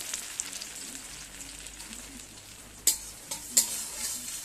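Cashew nuts frying to a reddish brown in white oil. A soft, even sizzle runs throughout, with a few sharper clicks and scrapes of stirring standing out near the end.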